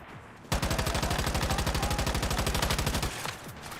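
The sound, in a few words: gunfire in a shooter video game (Once Human or Warzone)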